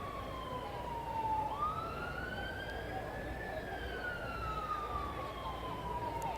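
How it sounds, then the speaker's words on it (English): Police sirens wail in a slow, rising and falling sweep at a distance, under a steady background of street and crowd noise in Selma, Alabama. "You hear the sirens in the background"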